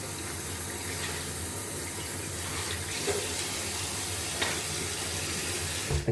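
A shaving brush is rinsed under a running tap, giving a steady close hiss of flowing water for about six seconds before a brief louder clatter at the very end.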